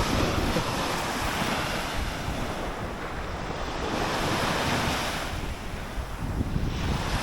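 Continuous roar of sea waves breaking on the shore, mixed with gusting wind buffeting the microphone, steady and fairly loud.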